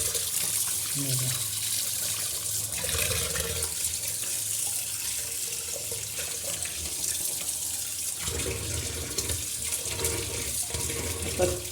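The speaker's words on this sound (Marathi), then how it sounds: "तीन ते चार पाण्याने आपण चिकन" Tap water runs steadily into a sink while raw chicken is washed for a simple home chicken curry, a continuous close splashing flow with brief handling noises and a faint voice underneath.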